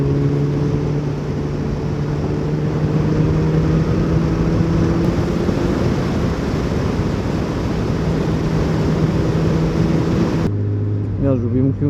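A motorcycle engine hums steadily while riding, a low droning note under wind rush that holds for about ten seconds before shifting to idle, with a rider's voice talking over it.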